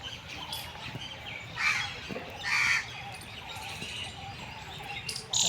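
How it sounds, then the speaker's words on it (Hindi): Birds call in a few short, sharp squawks and chirps over a quiet, green outdoor spot in Delhi, with faint insect-like hiss. "चिड़िया की ची सुनाई दे रही होगी,"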